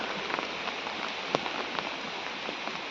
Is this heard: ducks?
no